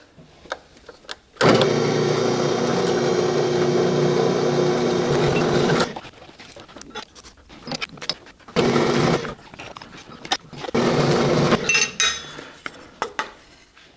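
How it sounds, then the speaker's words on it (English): A large stationary sander in a workshop refines the edges of a plywood template, running loud and steady for several seconds, then giving shorter bursts of grinding as the piece is worked against it. "put it on the big sander, and just kind of refine what part of these edges I can"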